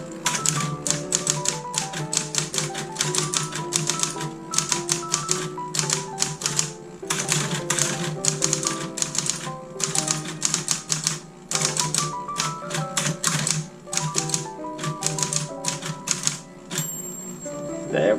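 A Corona Super Sterling manual typewriter types in quick, uneven bursts of close, crisp key strikes with short pauses between runs, ending with a bell ding near the close.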